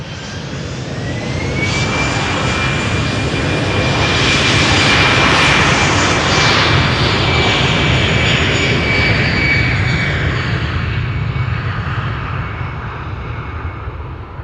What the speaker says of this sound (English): we're waiting for the E2 Embraer 195. That is currently on the runway 36 center